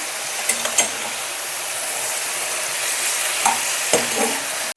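Cut brinjal pieces frying in a pan with curry leaves, a steady close sizzle with a few sharp scraping clicks as a spatula stirs them.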